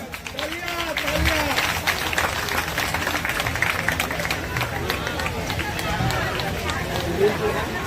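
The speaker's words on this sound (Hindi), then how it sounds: "इनका विशेष रूप से जोरदार ताली माता बहन।" An audience of mothers and sisters at a Hindu religious gathering in Jamshedpur applauds loudly, a dense, steady wash of clapping lasting several seconds, with a voice speaking over it.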